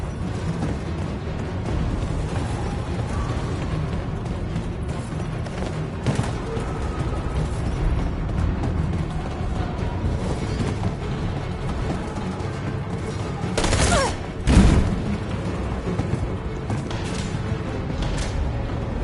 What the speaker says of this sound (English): Bomb's gonna explode any second.